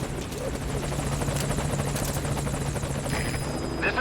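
A helicopter in the video game Metal Gear Solid V: Ground Zeroes gives a loud, steady rotor thump and engine drone, close and continuous throughout, with faint game sounds layered on top.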